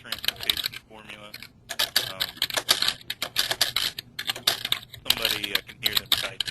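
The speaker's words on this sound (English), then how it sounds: "Somebody, I can hear them typing." Keyboard typing clatters through a webinar call, rapid irregular bursts of key clicks with brief pauses, fairly close and prominent, with some speech mixed in.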